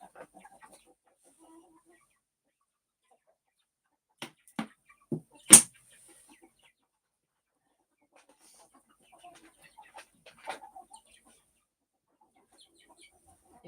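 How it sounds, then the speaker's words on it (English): Young chickens outdoors on an off-grid farm give a few soft, scattered clucks and squawks with one sharper call, separated by long quiet stretches. "the baby chickens are so huge now"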